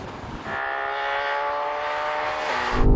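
A Ferrari Purosangue approaches during a drag race, its engine note rising into a strong, sustained tonal roar for a couple of seconds before a louder rumble at the end; no one speaks.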